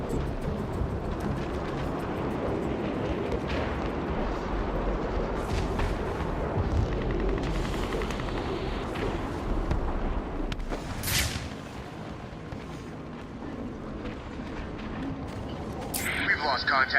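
Gunfire in Batman: Return to Arkham City rattles on as sustained, rumbling bursts and heavy impacts across the whole stretch, steady and fairly loud, with a few sharper cracks near the end.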